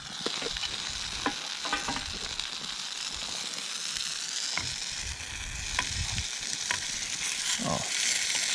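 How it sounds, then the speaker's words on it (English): Leftover pancakes frying in a large Trangia 209 mess tin outdoors in the wind, a steady soft sizzle and crackle close by with wind rumble underneath and no talking. "But I hear it heats up and fries."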